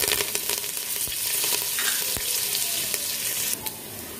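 Curry leaves crackling and spitting in hot oil with garlic, cumin, mustard seeds and asafoetida, close and continuous with sharp pops and spoon scrapes from stirring, no voices.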